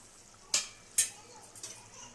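Spoon scraping and clinking in a pan of paneer green peas curry with ghee-fried cashews, two sharp metallic taps followed by softer stirring scrapes, close and quiet.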